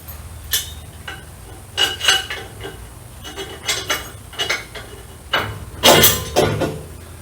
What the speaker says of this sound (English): Now we're going to put the washer and the nylock on there.